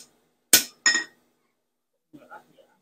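A hardened high-carbon steel piece is struck with a hammer, producing two sharp metallic clinks close together, followed a moment later by fainter, lighter knocks.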